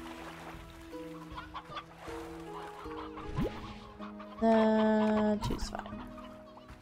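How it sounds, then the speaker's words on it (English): Roosters in the video game Slime Rancher cluck in short repeated calls over layered game music and tones, with a loud synthetic chime near the end and a voice talking briefly. "We got like 3 roosters here."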